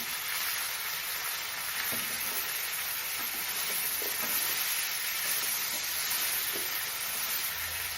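Mixed vegetables for aviyal, including raw plantain and curry leaves, sautéing in a pan with a steady, broad hiss and sizzle throughout, with occasional faint clinks of stirring.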